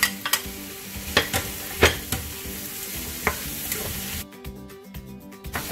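Pumpkin going into a rice cooker pot with shrimp, followed by steady close stirring over a soft sizzle, with several sharp clacks of a utensil against the pot and no talking.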